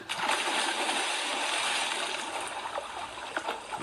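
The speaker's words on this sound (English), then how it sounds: "listen for the splash" Water splashes and gushes continuously in a close, moderately loud rush, with a few brief splattering bursts near the end.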